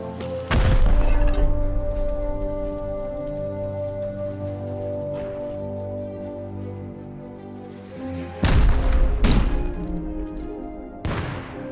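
Heavy rocket explosions hit in the video game Rust, two loud booming blasts with crashing debris, the first near the start and another pair near the end, separated by a lingering rumbling tail.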